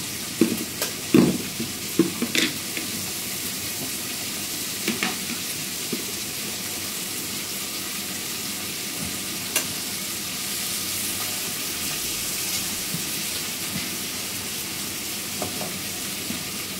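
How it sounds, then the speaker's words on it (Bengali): Onions fry lightly in a pan for a chicken dish, a steady quiet sizzle with sharp clatters of stirring early on and occasional scrapes, no one speaking. "আমি কিন্তু খুব একটা পেঁয়াজ ভাজবো না, হালকা হালকা করে পেঁয়াজটা ভাজবো"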